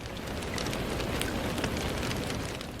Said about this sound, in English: The rain continues outside, a steady rhythm